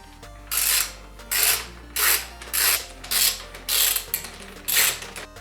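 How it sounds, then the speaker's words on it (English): A ratchet wrench loosens the 10mm bolts on a Kawasaki Vulcan S motorcycle exhaust. About eight evenly spaced bursts of rapid ratcheting clicks are heard close up over a steady low hum. "The next step is to remove these 10mm bolts."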